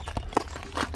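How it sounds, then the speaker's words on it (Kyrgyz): A ridden horse walks with soft, sparse hoof knocks, three or four close thuds in a short stretch, fairly quiet and alone. "Чабандес так узун бастырып көрсөтүп берип атат, өзүңүздөр көргөндөй."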